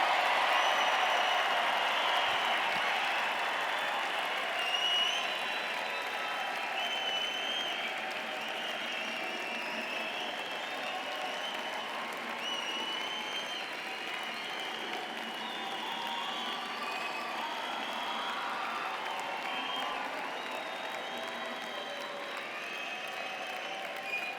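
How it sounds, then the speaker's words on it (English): A large crowd at a college engineering commencement ceremony applauds steadily and continuously, a dense wash of clapping that holds at the same level throughout with only a few faint cheers. "let us give the new graduates a big round of applause."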